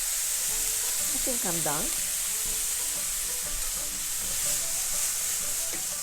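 Meat sizzling and frying in a pan for Korean gungjung-tteokbokki, a steady hiss throughout, with a brief faint voice speaking partway through.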